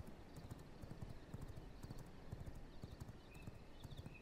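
Horse hooves in the video game V Rising, rapid rhythmic clip-clop of a ridden horse over quiet ambient game sound, with a faint whinny-like tone near the end.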